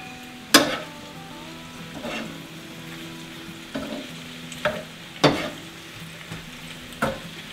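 Pasta is tossed into hot sizzling vegetables in a pan for pasta primavera: a continuous fry hiss broken by about six sharp scrapes and clatters of stirring.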